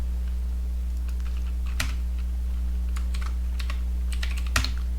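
Someone types a short command on a computer keyboard, producing a few scattered crisp key clicks with a final firmer keystroke, heard close over a steady electrical hum with no talking.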